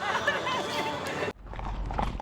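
Horses on the Stockyard Trail Ride in Fort Worth, Texas, a short burst of hoofbeats and horse noise amid a busy outdoor crowd, cutting abruptly to a quieter stretch with faint movement.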